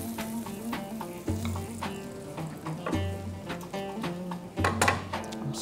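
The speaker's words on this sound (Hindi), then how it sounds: "तो फिश हमारी जो है वो फ्राई हो गई है।" Fish frying in hot oil in a pan, a loud continuous sizzle and crackle close up, with recurring scraping and clinking bursts from a utensil against the pan and a low hum underneath.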